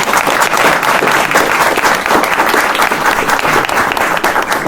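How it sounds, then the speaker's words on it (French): An audience applauds conference organizers at a DAM (digital asset management) event, a loud, steady wash of many hands clapping without letup from start to finish. "je voudrais quand même qu'on les applaudisse tous"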